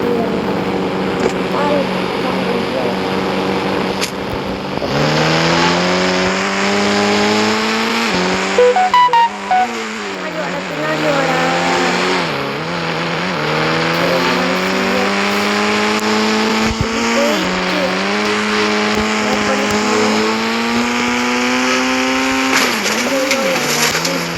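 A car engine in the GTA video game revs and drives continuously, loud and close, its pitch climbing and dipping with gear changes and throttle, with a brief tire squeal.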